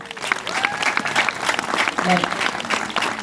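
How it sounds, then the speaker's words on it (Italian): Theatre audience applauds young entertainer-actors at a holiday village in Paestum, steady dense clapping throughout with a voice talking faintly over it. "Un applauso!"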